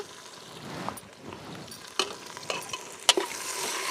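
Onions with ginger garlic paste, turmeric and salt sizzle in a pan while a spoon scrapes and stirs, giving sharp clinks over a steady frying hiss.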